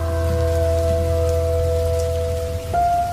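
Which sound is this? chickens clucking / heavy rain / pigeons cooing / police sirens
heavy rain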